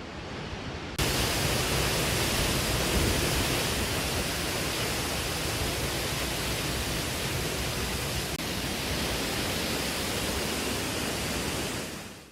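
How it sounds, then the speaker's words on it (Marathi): Thoseghar waterfall pours in a steady, loud, unbroken roar of falling water, continuous from about a second in and holding level until it fades at the very end, with no voices. "धबधबा वाहू लागलेला आहे"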